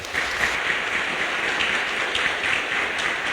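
A church congregation at a Sunday solemnity Mass for Saints Peter and Paul applauds, a steady, dense wash of many hands clapping that holds evenly throughout with no voices on top.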